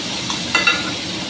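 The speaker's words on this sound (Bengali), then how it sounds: "এই জিরেটা চড়বড় করতে করতে আমি এর ভিতরে পনিরটা দিয়ে দেবো।" Cumin seeds crackling and sizzling in a small amount of hot oil in a pan, a steady fry with a brief louder stir or splash at mid-clip as paneer goes in, no voices.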